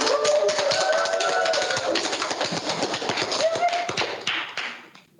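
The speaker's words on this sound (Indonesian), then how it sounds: "boleh kita kasih tepuk tangan semuanya untuk Kak Demi Mariska" An audience at a seminar applauds, a dense burst of clapping that holds steady for several seconds before tapering off, with a presenter's voice faintly over it.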